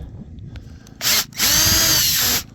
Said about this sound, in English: I see my point that I'm going to drill